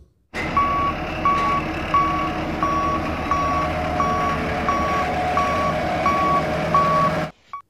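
A toy sand dump truck sounds its reversing alarm: a steady series of about ten evenly spaced electronic beeps over a loud motor whir that cuts off abruptly at the end.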